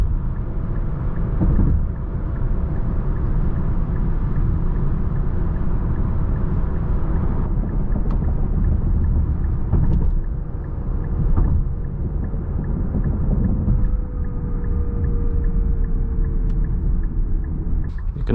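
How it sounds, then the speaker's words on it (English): A 2023 Nissan Ariya electric car in sport mode cruising on the road, with a steady low rumble of road and drive noise and a faint whine throughout, heard from inside the cabin without talk. "I did notice that there's an extra noise when you have it in sport."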